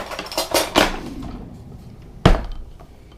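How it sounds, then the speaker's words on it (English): A spoon knocks and scrapes around a bowl of beef jerky marinade, several close clinks early on, then quieter stirring and one sharp knock near the end, with no talk. "And then you just want to mix that up. Favorite spoon here for mixing."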